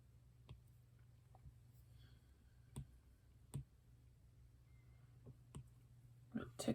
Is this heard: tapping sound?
yes